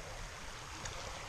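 Chapel Creek running near a lakeside campsite at Pictured Rocks, a soft steady wash of flowing water that stays quiet and even throughout, with no other sounds.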